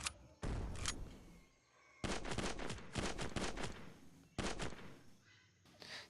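Rapid bursts of gunfire from the City Defense mobile shooter game, several volleys of crackling shots separated by short pauses, fairly quiet overall with a final burst at the end.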